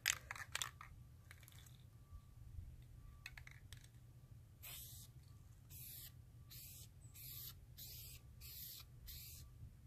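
Duplicolor vinyl and fabric spray paint hisses from an aerosol can onto a car dashboard in a series of short bursts, about seven quick sprays in a row after a few scattered clicks and hisses, close and fairly quiet with no talk.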